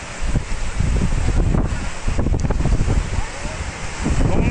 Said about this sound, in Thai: ลมแรงมากนะครับ